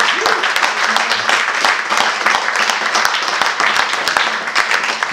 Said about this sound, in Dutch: Maar voordat ze weggaan, nog eerst even een daverend applaus voor Gidon, Nunes Vas, Tom Pet en Zulu